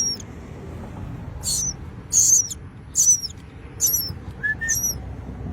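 Baby birds calling during a tree service's bird rescue in Louisiana, a handful of short high chirps and squeaks spaced out in bursts over a low rumbling background, with no speech.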